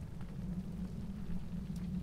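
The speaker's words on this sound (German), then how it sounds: "Es regnet in Strömen." Heavy downpour in the adventure game Geheimakte Tunguska, a steady low hiss of rain with a muffled rumbling quality, faint and continuous throughout.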